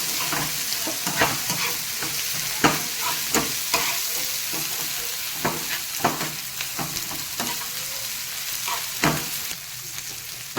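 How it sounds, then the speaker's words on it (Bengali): Onion and spices sizzling in oil with black pepper for a Bengali pekal fish curry, steady close frying hiss broken by frequent sharp scrapes and clacks of stirring, no talking. "মশলা ভাজা ভাজা হয়ে গেছে পেঁয়াজ ভাজা ভাজা হয়ে গেছে তেলও ছেড়ে গেছে"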